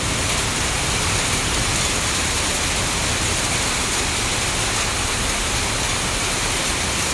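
Heavy rain pours steadily during bad weather near Guadalupe, a loud, dense, unbroken roar of water with no talking.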